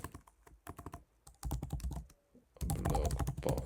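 Fingers type a blog post on a computer keyboard in bursts of quick key clicks, with short pauses, then a denser, louder run of rapid typing near the end; close and clear, with no talking.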